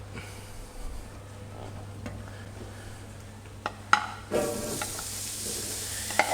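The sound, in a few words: onion sizzling in a paella pan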